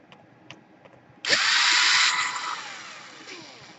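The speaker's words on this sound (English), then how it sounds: "there is 1, 2, 3, 4, 5 screws you need to unscrew here" A power screwdriver whirs in one sustained burst, then winds down, while screws are being removed from a Sony Vaio laptop during a repair. A few light clicks come before it, and no one talks.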